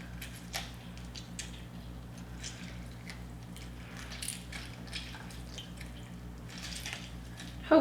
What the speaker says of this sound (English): I just put a strainer over my pot, poke it with the zester, and squeeze out the juice.